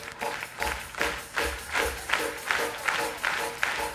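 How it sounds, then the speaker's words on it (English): A punk rock concert crowd at The Trocadero, Philadelphia, claps along in unison, loud rhythmic claps landing roughly every half second and echoing through the room as the band readies a song. "Let's get a clap"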